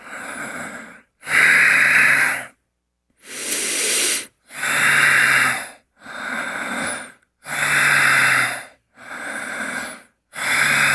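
Deep, slow breathing during a tai chi forward fold, with long airy inhales and exhales alternating in a steady rhythm with short silent pauses between them, loud and close.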